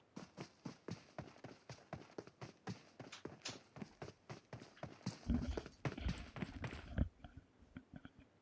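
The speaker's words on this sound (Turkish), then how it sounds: "ayak sesleri var" Rapid, steady footsteps from a character running in PUBG Mobile, a continuous string of crisp thuds at even pace for several seconds, growing heavier near the end before stopping abruptly.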